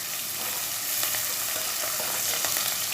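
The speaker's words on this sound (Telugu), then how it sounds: "నూనెలో కరివేపాకు వేసేస్తే చిట్టపట చిట్టపాట అని నా మీద పడిపోద్దని భయం వేసి ఉల్లిపాయ ముక్కలతో పాటు వేసేసాను" Curry leaves and chopped onion fry in hot oil for a homemade pulusu, giving a steady, close, continuous crackling sizzle with a few sharper pops and no voices.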